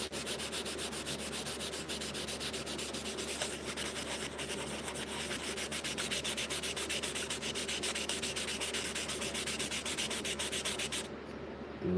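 A knife blade being sanded on grit abrasive during sharpening toward a mirror finish. The rasping, rhythmic scrubbing strokes run steadily and close, then stop abruptly near the end. Nobody speaks.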